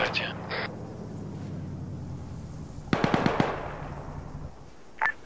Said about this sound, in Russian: Че, уже стреляют? А кто это стреляет?